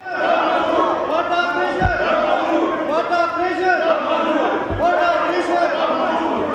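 A large crowd in a provincial assembly chants slogans against a proposed military operation in unison, rhythmic and loud, the shouted phrases repeating in waves with a couple of dull thumps.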